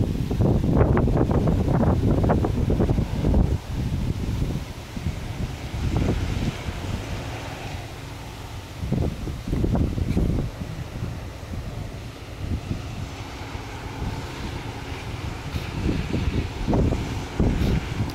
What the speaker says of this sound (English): it is kind of cloudy out here today and very windy.